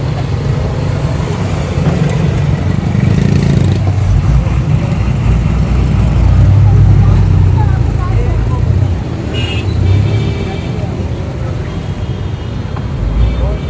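A Suzuki Mehran car's engine idles steadily with a low, continuous rumble, close and fairly loud throughout, while people talk over it.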